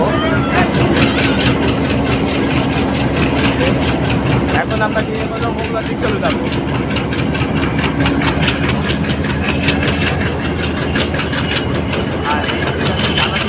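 A train pulls out of a station in Khulna, its engine holding a continuous low rumble throughout while someone talks over it.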